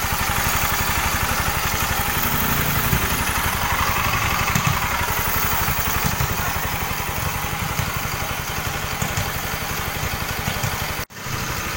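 A Bajaj Pulsar motorcycle engine idles close by with a fast, even putter and mechanical clatter, running steadily before a brief dip near the end.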